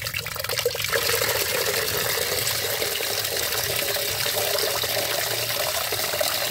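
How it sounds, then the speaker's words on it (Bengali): Water poured and stirred into fertilizer to thin it, a steady trickling, splashing wash heard close up and alone. "জল মিশ্রিত করে নিচ্ছি।"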